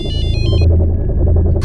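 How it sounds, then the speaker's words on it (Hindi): A mobile phone ringtone plays loudly and close, a bright repeating electronic melody pulsing several times before cutting off, leaving a low rumbling background. "अरे ये तो मेरे मोबाइल से फोन आ रहा है।"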